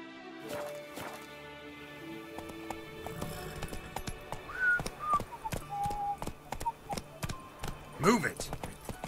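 A horse gallops along in The Witcher 3: Blood and Wine, with steady hoofbeats thudding under a crowd cheering and a man urging the horse on, plus bright ringing clangs scattered over the top.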